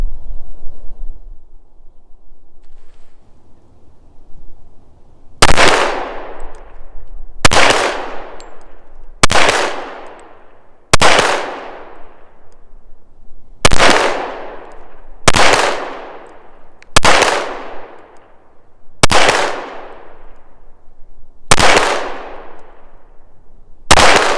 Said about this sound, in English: from 50 feet, I'm going to shoot 10 shots from back here.